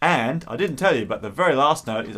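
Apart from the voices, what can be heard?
No everyday noises stand out.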